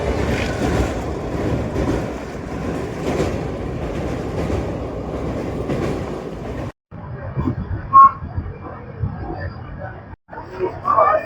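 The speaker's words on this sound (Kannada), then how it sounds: "ಇವಾಗ ಸೊಲ್ಲಾಪುರಿಂದ ಡಿಪಾರ್ಟ್ ಆಗಿದೆ ಟ್ರೈನು" A passenger train rumbles and clatters along steadily with a rushing roar, heard from onboard, then the sound cuts briefly to quieter rattling with a few sharp interruptions.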